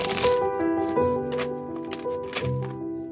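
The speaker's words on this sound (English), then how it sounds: "double tap the deck for luck while I shuffle" A tarot deck being shuffled by hand, soft papery riffles and taps repeating a few times over a sustained background tone.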